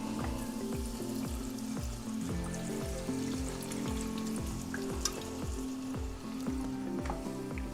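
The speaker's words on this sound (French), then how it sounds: "je vais pouvoir déglacer avec le vin blanc" Onions coated in flour are deglazed with a generous glass of Alsace white wine for the Ardennes dish cacasse à cul nu, giving a steady close sizzle in the pan over a repeating, pulsing tonal hum.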